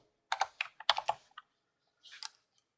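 Computer keyboard keys clatter in two quick bursts while a spreadsheet formula is typed, a cluster of close, crisp clicks followed by a pause and a shorter, softer run of keystrokes.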